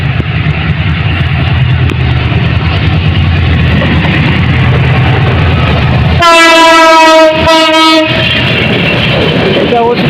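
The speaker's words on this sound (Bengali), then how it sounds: "এই মাত্র একটা ট্রেন আসতেছে, যাত্রীবাহী ট্রেন।" A passenger train arriving at Jamtail railway station in Sirajganj, a loud continuous rumble of rolling cars broken by a long blaring horn blast and a second shorter blast close by.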